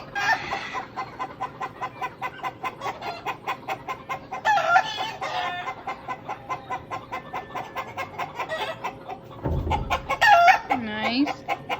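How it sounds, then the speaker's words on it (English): A rooster crows loudly among a flock of hens clucking steadily in a repeating rhythm, close by, with a brief low thump partway through. "Yeah, Rooster, bring along the hens."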